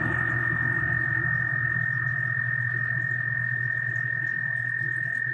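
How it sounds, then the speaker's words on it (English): A frog screams outside a window with a steady, droning call that stays loud and continuous throughout, over a low background hum. "There's a freaking frog screaming outside of my window."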